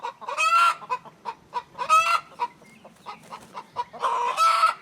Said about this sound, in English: Mary Tyler Moore, you're the most talkative hen I've got